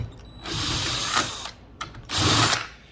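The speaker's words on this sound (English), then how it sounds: "let's go ahead and try it with the drill now" A power drill fitted with a universal socket and adapter spins off a square nut in two bursts of whirring, ratcheting grind, close up with a short pause between, and no talking.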